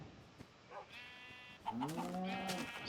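Sheep in the Minecraft video game (version 1.1) bleating on a ranch, a faint early bleat then two longer overlapping bleats, moderately close and without talking.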